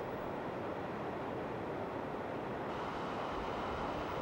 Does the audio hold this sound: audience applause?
no